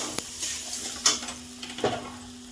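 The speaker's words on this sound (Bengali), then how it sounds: "এবার এটাকে নাড়িয়ে নেবেন" A spoon stirs a lentil mixture with jaggery in a frying pan, a few close scrapes and clinks over a faint sizzle, with no talking.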